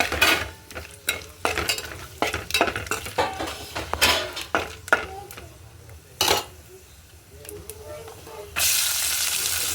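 Green chilies and onions fry in a pan, with rapid clinks and scrapes of a metal spoon against the pan over a steady sizzle, ending in a louder burst of hissing; close, no speech.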